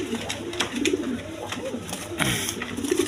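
Spanish pouter pigeons coo in low, throaty, repeated rolling calls, close by, over a steady background hum.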